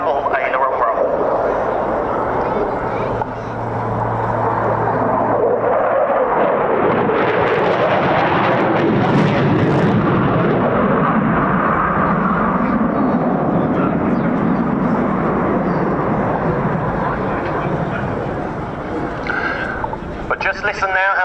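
A jet aircraft at an airshow, passing at close to 700 mph after a high-speed double aileron roll, makes a loud, sustained roar that swells and then recedes, with a commentator talking over it.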